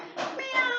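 A reader imitating a cat's meow, a short drawn-out vocal mew with a rising then falling pitch, close and clear with nothing else around it.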